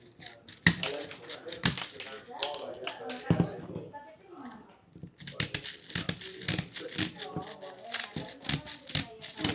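Airsoft BBs are pushed from a BB loader into a magazine, producing rapid, close plastic clicks and rattling taps in bursts with a short quieter pause midway.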